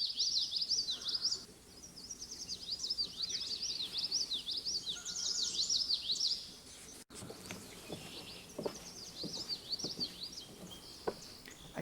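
Several common yellowthroat warblers sing from a red maple swamp beside a boardwalk at Holt Pond, with bright, rapid, repeated phrases that overlap at moderate distance and then thin out into scattered chips and faint calls.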